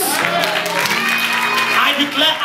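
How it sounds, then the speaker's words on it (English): A church congregation at a Sunday service applauds as a dense, continuous wash of clapping under a loud voice speaking over it, with cheering mixed in throughout. "As you are clapping"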